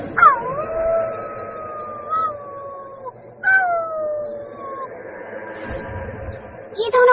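Story sound effect of a wolf and a lion outside a witch's cave: long, drawn-out howls that glide in pitch, rising and falling in repeated waves. They are loud and close, with a low rumbling bed underneath.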